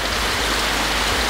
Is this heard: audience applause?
no